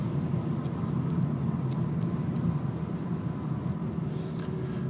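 A car slows on a road as a red van waits at a junction, heard from inside as a quiet, steady low rumble of engine and tyres that continues evenly throughout.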